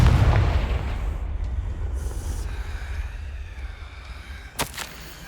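A Confringo fire spell in Hogwarts Legacy goes off as a loud, deep explosive boom right at the start, then fades into a low rumbling tail with a sharp crackle near the end.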